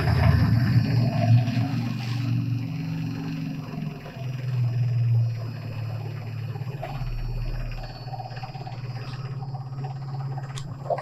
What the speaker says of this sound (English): I'm going to put this transmission in second gear lockup and just let you guys take a look at some of those pressures